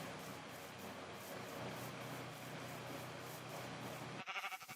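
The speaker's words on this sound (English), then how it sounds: "now we'll go back over to these sheeps" Sheep bleating in the Minecraft video game, a steady game soundscape that runs through most of the stretch before dropping away into brief fluttering sounds at the end.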